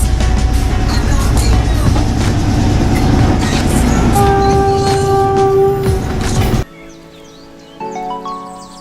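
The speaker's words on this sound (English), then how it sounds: "the trains are pretty slow and pretty loud, so I've no doubt that we'll hear it coming" A train in Sri Lanka rumbles loudly past, steady clatter with a long sustained horn-like tone, then cuts to quieter ambience with a brief tonal sound.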